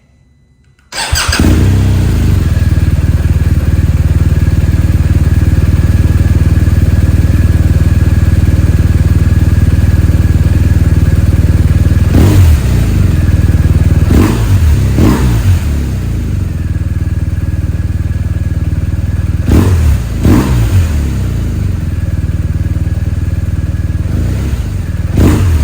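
A BMW R 1250 RS motorcycle engine fitted with a BrenTune tune fires up after a moment of quiet and idles loudly nearby, with several sharp revs punctuating the steady rumble.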